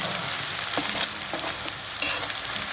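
Cumin seeds sizzle and crackle in hot oil in a pan for a dry eel fish curry, a loud, dense, steady frying hiss with a few sharper pops, heard alone.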